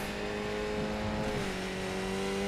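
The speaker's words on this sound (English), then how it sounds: "We don't need to blow the motor downshifting too fast either." Skip Barber race car engine in the iRacing sim at Oulton Park, a steady loud drone whose pitch steps down as it downshifts, alone without voices.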